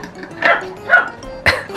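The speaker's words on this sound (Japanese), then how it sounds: "吠えてるけど" A small dog barks in a kitchen where sardine-and-tomato pasta is being cooked and tasted, giving three short, separated yaps at middling distance with no talk over them.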